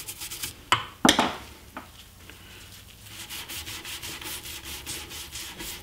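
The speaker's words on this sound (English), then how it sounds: "For the inside corners, these tight corners, I like to use a wet paintbrush." A wet paintbrush scrubs glue out of the tight inside corners of wooden furniture, making rhythmic close-up brushing and rubbing strokes, with a couple of sharper knocks near the start and no talking.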